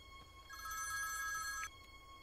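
A telephone bell rings in a single burst late at night in a Hindi film scene, clear and fairly close over a quiet room background.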